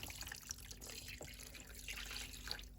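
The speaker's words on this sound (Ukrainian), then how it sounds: "Водичку вже ми підготували заздалегідь, воду виливаємо до рибки сюди." Water is poured onto mackerel being brined in a kitchen, a faint, soft trickle and splash heard close up with no talking.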